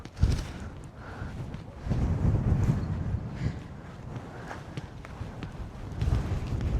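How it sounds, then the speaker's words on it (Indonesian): Strong wind buffets the microphone on a walk through a Moldovan village, rumbling in uneven gusts with loud low roars and occasional rustling, plus faint footsteps. "Lihat anginnya, oh my god."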